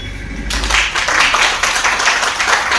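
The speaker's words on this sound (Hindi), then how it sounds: "पायल, पायल आपके लिए तालियां।" Applause starts abruptly from a crowd at an indoor youth team meeting, many people clapping together in a full, continuous patter that holds at a steady loud level once it begins.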